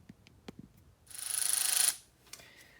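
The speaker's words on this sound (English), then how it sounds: "And a 14mm socket says goodbye to this bolt." Ratchet on a 14mm socket loosening an alternator bolt: a few scattered clicks and taps, then a close, rapid clicking whir for about a second, followed by faint metallic knocks.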